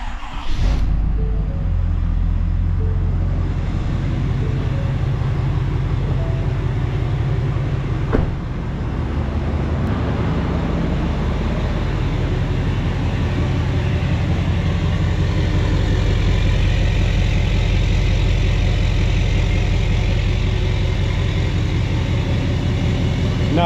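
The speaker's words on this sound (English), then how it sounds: "that right there is what a diesel pickup is supposed to sound like" A Ford Powerstroke diesel pickup farm truck with a DPF delete and tune cranks over and starts, then settles into a steady, deep, rumbling idle heard up close for over twenty seconds, with no one talking.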